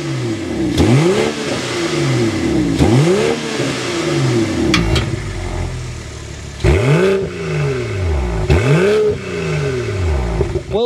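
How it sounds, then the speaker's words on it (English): A car engine revs repeatedly through its exhaust, each rev rising and falling in sweeping arcs, with roughly a handful of loud throttle blips over a steady idle, close and alone. "start this thing up so you can hear that exhaust sound"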